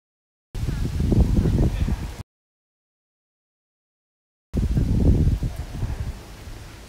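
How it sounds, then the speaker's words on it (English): Wind gusts buffet the microphone on an outdoor walk near a Tokyo shrine, two loud rumbling bursts of blustery noise separated by a stretch of silence. "Such a fun, so windy."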